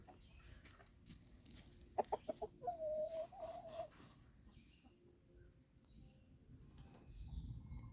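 A farm rooster gives a few short clucks and then one drawn-out crow, moderately faint and somewhat distant, against quiet outdoor background noise.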